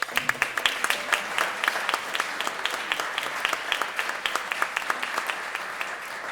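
Applause from an audience at a Santa Cruz evening event on food and farming, a steady patter of many hands clapping at close range, holding even throughout.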